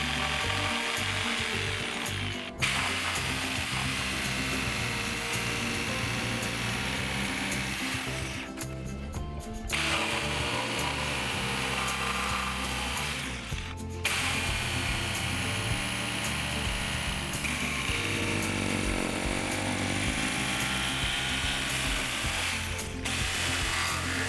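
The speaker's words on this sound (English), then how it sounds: "use a jigsaw to cut the pattern out" A jigsaw cuts a wooden beam tail along a traced paper template, its blade buzzing loudly and continuously for many seconds with three brief pauses as the cut is repositioned.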